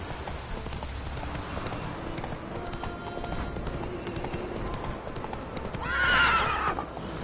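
Hoofbeats of Roach, a horse in a video game, clatter at a steady gallop under ambient outdoor sound, with a loud whinny bursting out near the end.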